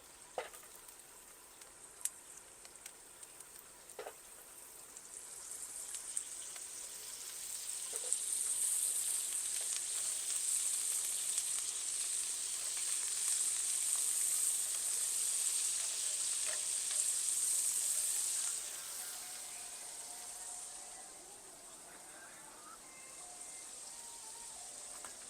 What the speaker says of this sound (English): 2 to 3 tablespoons of butter in here and saute our mushrooms